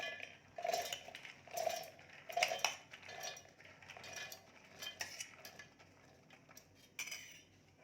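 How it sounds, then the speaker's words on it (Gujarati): Soaked black-eyed peas (cowpeas) are spooned into a steel mixer jar. Light metallic clinks and scrapes repeat in irregular bursts close by, with no talking. "બધા ચોળાને હું આની અંદર ઉમેરી દઈશ"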